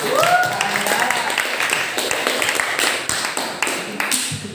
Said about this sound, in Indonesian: Ini tepuk tangan yang meriah buat kamu.